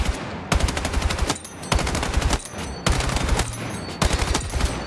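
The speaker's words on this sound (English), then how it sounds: "if I start shooting, then I can strafe and then I stop and then shoot and keep shooting and then stop" Rapid automatic rifle fire in Battlefield 6, fired in four loud bursts of roughly a second each with brief gaps between, each burst a dense rattle of close, sharp shots.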